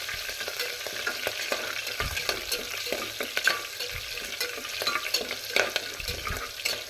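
Green chilies are sautéed in a pan with a continuous dense sizzle. Frequent light spatula stirs and scrapes run through it, with a few soft low knocks.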